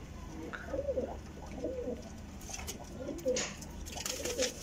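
Pigeons coo on a rooftop in repeated soft, throaty phrases, several birds calling close by, with light chirps and a faint outdoor hum underneath.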